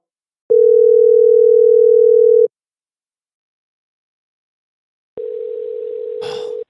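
A steady telephone call tone sounds for about two seconds, goes quiet, then returns as a slightly pulsing tone before the call is forwarded to voicemail, with a brief burst of noise at the end.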